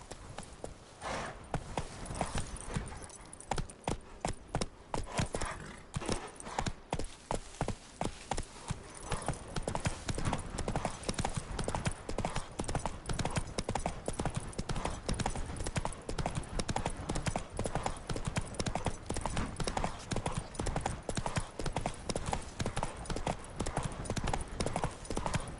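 Roach the horse running in The Witcher 3, a fast, relentless drumming of hooves that builds in the first seconds and then holds a steady, close gallop rhythm to the end.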